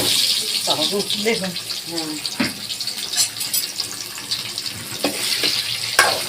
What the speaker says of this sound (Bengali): আলুটাকে ভেজে নিলাম নুন হলুদ দিয়ে মেখে লাল লাল করে